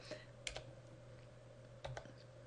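Quiet keystrokes on a computer keyboard while numbers are entered into Excel cells, two short clusters of taps over a steady low hum.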